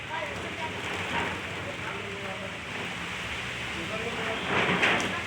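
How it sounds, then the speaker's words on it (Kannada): Rain falls with gusting wind, a dense steady hiss that swells briefly near the end, with a faint voice underneath. "ಗಾಳಿನೇ ಹಂಗೈತಿ ಮಳೆ ಗಾಳಿ"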